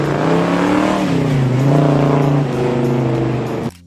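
A 1972 Pontiac Le Mans 455 HO muscle car engine revs loud and close, a deep, throaty roar that rises and falls across several seconds before cutting off abruptly.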